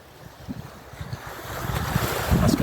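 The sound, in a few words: ocean waves at a cove in Ibiza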